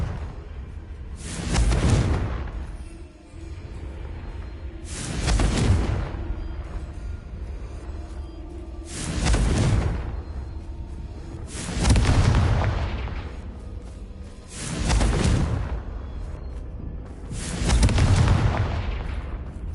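Confringo blasting curse explosions in the Hogwarts Legacy video game: five heavy booming blasts at a regular rhythm, each swelling and fading into a rumbling tail before the next.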